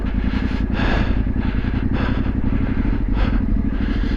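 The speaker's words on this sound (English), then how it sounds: "Slow the bike down, slow the bike down." A motorcycle ridden down a North Yorkshire trail, its engine loud and close with a steady throbbing drone and fluctuating revs, joined by clattering and scraping from the rough ground.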